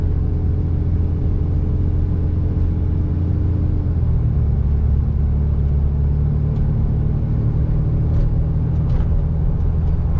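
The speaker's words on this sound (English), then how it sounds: "Hitting some pretty big bumps." A 2007.5 Cummins pickup truck drives over a rough, bumpy road, its engine and cab rumbling loud and steady with a faint thump here and there.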